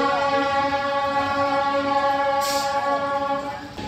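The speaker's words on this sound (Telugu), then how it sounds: "మన ట్రైన్ వచ్చేసండి 20 kmph అయితే వెళ్తుందండి ప్రజెంట్ అయితే" A passenger train rolls slowly at about 20 km/h on a Vijayawada–Bhimavaram run, a steady rumbling drone with sustained tonal whine throughout and a brief hiss near the end, no voices.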